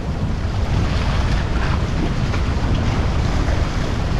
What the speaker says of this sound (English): we have a nice boat coming in